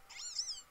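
Litten, the fire cat Pokémon, gives a short, high, thin meow-like cry in Pokémon Moon, a single faint call under a second long.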